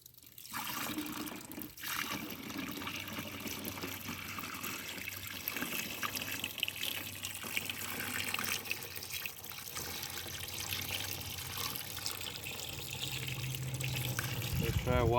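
Hose water rushes through the new radiator of a 1972 Buick Skylark during a flush, a steady close gushing and trickling that grows louder toward the end, with faint talk in the background.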